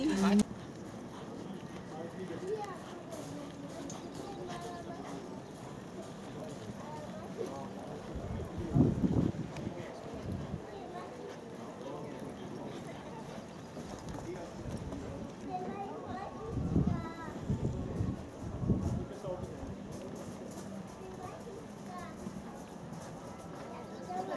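Faint hoofbeats clip-clop intermittently as horses move during a riding lesson, with a few louder bursts, under ongoing conversation.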